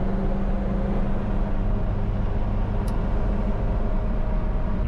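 A 2005 Chevy Trailblazer on the move gives a steady low road and engine rumble from inside the cabin, an unbroken drone with a faint brief high tick partway through.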